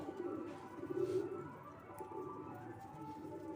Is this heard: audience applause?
no